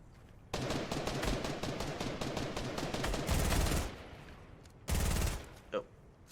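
Fortnite gunfire rattles in rapid automatic bursts, dense and steady for several seconds, then a pause and another heavy burst, with a few faint sounds toward the end.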